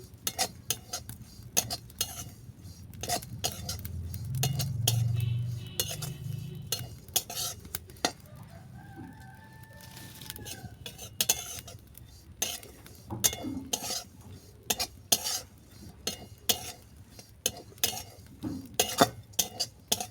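Oats roast with cashews and raisins in a pan under quick, frequent stirring for oat laddu, giving a long run of light clicks and scrapes with faint sizzle, near and moderately quiet with no talk.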